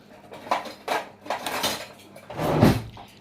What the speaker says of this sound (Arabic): انا هشتغل بالشوكه كده وما تمليش الفريك قوي يعني